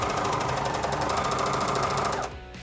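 A coverstitch sewing machine runs through fabric in a rapid, even mechanical chatter, close and steady, then cuts off abruptly near the end.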